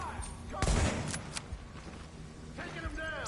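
A turret fires in the video game The Division on PS5, giving a short, sharp volley of shots followed by a few scattered single reports over a low background of game sound.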